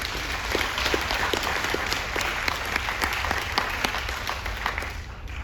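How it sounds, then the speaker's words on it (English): A cruise ship audience applauds steadily, a dense, even wash of many hands clapping that holds at constant loudness from start to finish without voices breaking through. "Give everyone a big round of applause."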